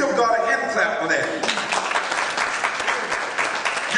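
A church congregation claps for God after a sermon point, with a voice still speaking at the start before thick, steady hand clapping takes over and continues to the end.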